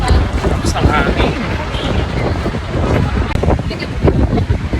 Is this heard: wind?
yes